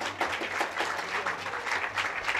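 An audience at a school talent award ceremony claps to welcome a senior teacher, a continuous and fairly loud crowd applause with a faint low hum underneath.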